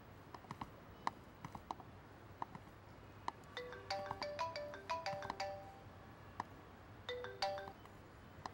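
A mobile phone ringtone in a Chinese drama scene, quiet, short melodic bursts repeating over a faint background of clicks and soft room noise, with no talk over it.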